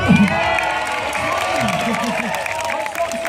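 A live crowd cheers and applauds loudly after a woman finishes a chainsaw juggling trick, with whoops and children's shouts over the continuous clapping and a voice speaking above it.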